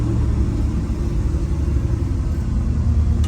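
A 1963 Chevrolet Impala SS engine idles steadily up close, a continuous low rumble with a faint whine from a mild gear drive, running alone without any voices.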